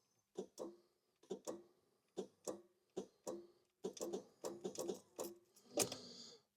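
Repeated sharp clicks from the starter of a 1970 Jaguar XJ6 with the ignition on, about a dozen close, loud clicks in irregular pairs and bursts, with no engine cranking.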